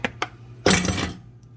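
A metal fork tossed into a kitchen sink lands with one bright clattering clink, preceded by two light taps, then fades into quiet.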